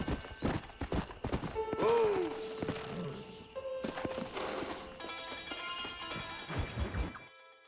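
Horse hooves clip-clop through a Red Dead Redemption game scene, steady and fairly close, mixed with a neigh, clattering game sounds and a music bed.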